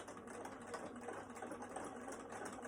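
Sewing machine running slowly with a 3.5 mm topstitch length on a fabric face mask: a soft, continuous low motor whir with a faint rhythmic patter throughout the short stretch.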